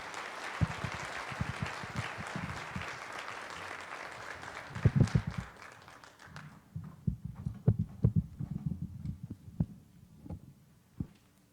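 Audience applause at a formal keynote event, a broad wash of clapping that swells and then thins into scattered, separate claps toward the end, fairly distant with no voices over it.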